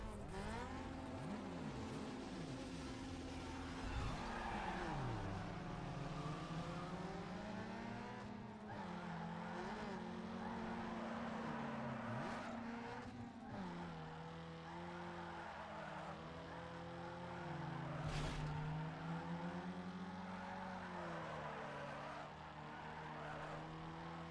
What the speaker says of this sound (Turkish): Buradaki drift yarışlarını yapacağım.